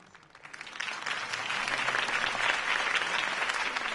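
A crowd breaks into applause in the video game Batman: The Telltale Series, swelling quickly from quiet to a sustained, dense clapping that holds steady to the end.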